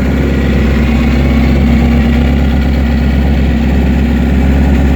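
A 2006-2007 Suzuki GSX-R motorcycle with cold start issues runs just after a cold start, its engine chugging in a steady, loud, close idle throughout with no talking.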